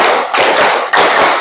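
A class in a school counseling lesson claps in unison in a patterned focus-clap routine: loud, close, synchronized bursts of hand claps in a steady rhythm.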